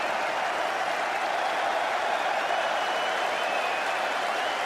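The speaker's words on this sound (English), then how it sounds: "Oh, look at the applause." Steady, dense applause from a large cricket crowd at The Oval during the 2005 Ashes fifth Test, rolling on evenly throughout as a broad, sustained wash of clapping with no voices rising above it.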